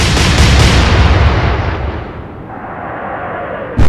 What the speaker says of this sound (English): Let's just fire.